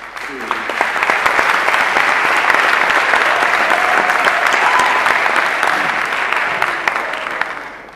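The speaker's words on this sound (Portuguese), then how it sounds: "uma grande salva de palmas para a Sara Felipe" Audience at a sports gala in Vila Pouca de Aguiar gives steady, dense applause that holds for several seconds at full strength before easing slightly, with no talk over it.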